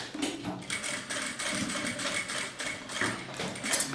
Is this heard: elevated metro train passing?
no